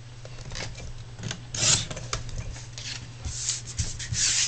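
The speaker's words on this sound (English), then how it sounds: "I use my paper trimmer to crop it down in size" A handheld paper trimmer slices through a printed photo for a scrapbook page, giving short close rasping cuts with a few brighter swipes, all fairly quiet and without talk.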